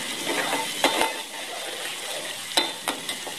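A spoon stirs roasted masala in a pan while aloo bhujia is cooked, with a gentle continuous sizzle broken by a few scraping clicks and taps of the utensil against the pan, close by.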